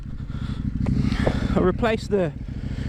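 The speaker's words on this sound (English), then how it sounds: "So I'm just on a little test ride on the bike today." A KTM 790 motorcycle out on a test ride gives a steady, close engine drone, with a voice talking over it partway through.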